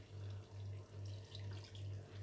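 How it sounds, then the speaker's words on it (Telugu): Tamarind water pours into a thickening fish curry in a home kitchen, giving a steady liquid stream over a low, pulsing hum that swells and dips about twice a second, close and moderately quiet. "కొద్దిగా చింతపండు నీళ్ళు అయితే వేసుకుంటున్నాను."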